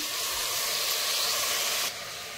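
Chopped tomatoes fry in a hot pan with asafoetida, giving a steady close sizzling hiss that drops slightly near the end, with no talk.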